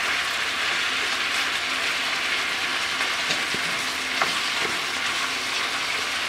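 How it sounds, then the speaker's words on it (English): Onions fry in a pan for homemade beef chili, a dense, continuous sizzle heard up close with a few faint clicks of a utensil, steady in level throughout and without speech. "So now I'll place my onions in."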